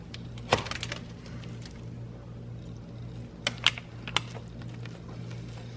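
A knife slicing through Oreo cheesecake bars makes a few brief crisp cracks, a cluster near the start and several more later, close by over a steady low hum with no talking.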